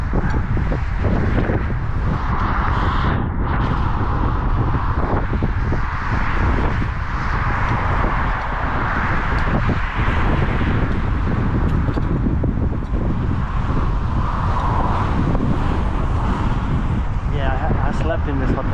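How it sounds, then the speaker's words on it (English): Strong wind buffets the microphone during a bike ride through Boston on a sunny day, a continuous loud roaring rumble with someone talking over it throughout. "the wind is so strong you cannot hear me probably"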